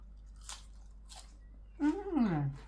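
Two crisp, close crunching bites into Thai cucumber salad, pounded Isan-style with fermented fish sauce and served with Isan sausage and fresh vegetables, followed by a voiced, appreciative murmur.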